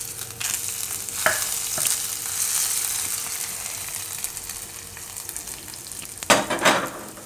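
A hot spiced tempering hits masala khichdi in a clay pot, giving a steady sizzle with a few sharp crackling pops and a louder burst of spitting near the end.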